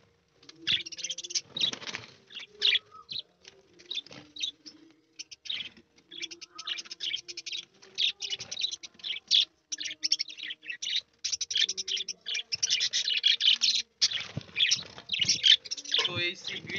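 Pet budgies and finches chirp and tweet busily in their cages indoors, a dense run of quick, close calls that carries on throughout, with a person talking quietly underneath.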